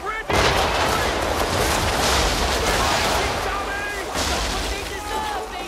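A swivel gun firing from a sailing ship in the video game Assassin's Creed 3, with a sudden loud blast followed by a long rumbling roar and a second boom near the end, voices shouting over it.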